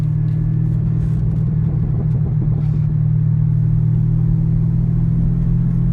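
A 2010 Chevrolet Camaro SS/RS V8 accelerating in first gear on a hilly road, a loud, steady low engine rumble that holds strong throughout, heard close with no talking.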